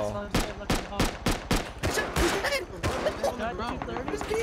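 Bursts of AK rifle fire in the video game Rust: rapid, loud repeated shots with a thick rumbling tail, layered over game noise.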